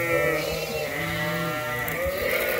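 Lambs bleat in a farm pen on a sheep farm, one drawn-out wavering cry followed by more overlapping bleats, close and clear throughout.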